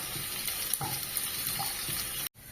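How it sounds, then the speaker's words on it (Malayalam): Two large sliced onions sauté in coconut oil for a fish molly, giving a steady close sizzle that runs unbroken and cuts out briefly near the end. "അതിലേക്ക് രണ്ട് വലിയ സവാള അരിഞ്ഞു വെച്ചിട്ടുണ്ട് അത് ഇട്ട് പയ്യെ വഴറ്റുക"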